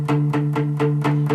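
Palm-muted electric guitar chugging with a steady rhythm of short, choppy, dampened attacks, about six in under a second and a half. The playing is loud and close, with a slight distorted edge and no voice.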